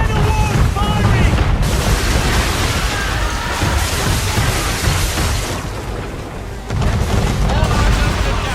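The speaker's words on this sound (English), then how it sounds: "Man of war's firing!" Man-of-war broadside cannon fire at sea in Assassin's Creed 3, a dense, loud roar of booming blasts over wind and ocean noise, briefly easing before another heavy volley, with voices shouting underneath.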